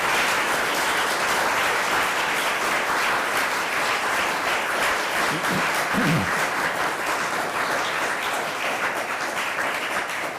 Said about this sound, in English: If you could all please give a round of applause for our two distinguished